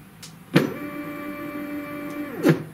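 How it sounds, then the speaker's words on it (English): A CNC motor is run as a test after wiring to a Mach3 driver. It gives a click, then a smooth electric whir lasting about two seconds, ending with another click, close and fairly quiet, with no talking. "So we'll just see if the motor turns."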